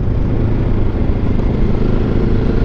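A Benelli TRK702 motorcycle engine drones steadily while riding in fourth gear, a loud, continuous low rumble with wind noise, no voices over it.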